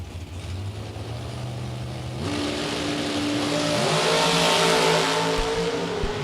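Drag racing dragster from Chris Reynolds' team, driven by Shane Carr, at a Spring Fling event, engine droning then rising in pitch and loudness through stepped gear changes as it launches down the strip.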